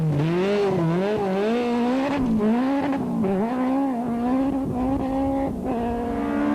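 Toyota Corolla rally car tearing along a stage, its engine note loud and close, climbing and dipping steadily through gearshifts with a continuous high-revving howl.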